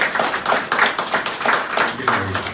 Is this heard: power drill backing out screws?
no